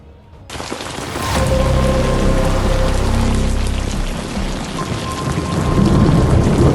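Heavy rain pours loudly in Afghanistan while a deep roll of thunder rumbles through the first seconds, the downpour continuing dense and close afterward without speech.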